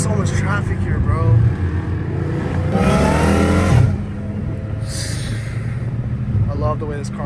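Dodge Hellcat Redeye with a catless exhaust downshifting at night in traffic, a loud, rumbling engine roar swelling through a burst of revs, with someone talking excitedly over it.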